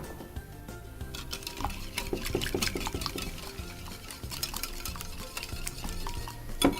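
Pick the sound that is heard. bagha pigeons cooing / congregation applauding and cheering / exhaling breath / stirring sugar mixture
stirring sugar mixture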